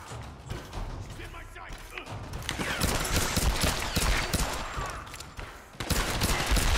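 Sustained machine gun fire in the video game Tomb Raider 2013, a dense rattling fusillade of rapid shots with mechanical clanks, loud and continuous for several seconds amid game action, with a player's voice talking over part of it.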